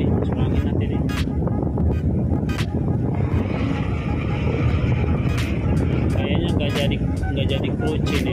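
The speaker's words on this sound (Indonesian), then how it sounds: "Anginnya kencang sekali guys" Strong wind buffets the microphone at sea beside a crew boat in rough weather, a loud continuous roar and rumble throughout, with someone talking over it.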